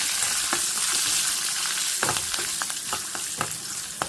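Lentils and dried red chillies tempering in hot oil, giving a steady crackling sizzle punctuated by clinks and scrapes from stirring, close by with no talk.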